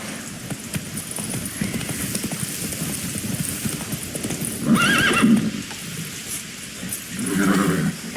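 Roach, a horse in The Witcher 3, gallops with steady clip-clop hoofbeats close by, breaking into two loud whinnies partway through and near the end.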